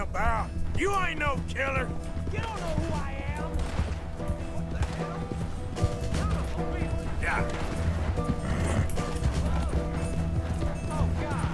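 A horse in Red Dead Redemption 2 that needs calming clatters its hooves and gives strained, rising whinnies amid game action, mixed under frequent talking.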